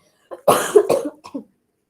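A person coughs several times in a short burst, loud and close, with a brief pause before two final smaller coughs.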